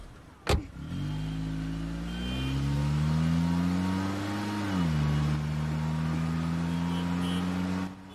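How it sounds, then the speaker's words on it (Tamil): A car starts up and pulls away with a driver at the wheel: a sharp thump, then a steady engine hum that swells slightly as it moves off and cuts out near the end. It is heard alone, with no talk. "டிரைவர் வண்டி எடுப்பா."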